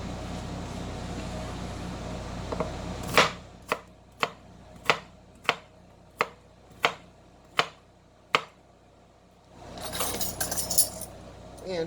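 A knife chops through a large purple onion on a cutting board, about ten crisp, evenly spaced strikes close up, followed by a brief rustle of handling.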